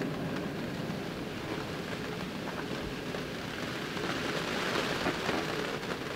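Steady rain falling outdoors during an Association Croquet World Championship semi-final, a dense even patter of drops with occasional heavier splashes, continuous and fairly soft, with no voices.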